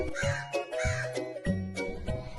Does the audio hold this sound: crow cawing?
yes